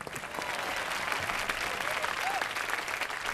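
A studio audience on a Hindi family game show bursts into loud, sustained applause, dense and even throughout, with a brief vocal sound briefly audible within it.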